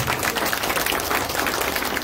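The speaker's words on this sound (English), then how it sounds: "Give him a round of applause" An audience at a real-estate training session claps together, a dense and steady burst of applause close by that lasts the whole moment with no talk over it.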